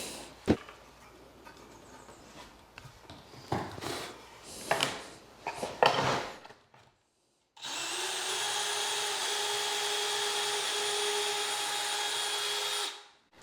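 A drill runs in a wood board during board-and-batten wall work, first with scattered knocks and short bursts of drilling, then after a pause a loud, steady whirring run lasting several seconds before stopping.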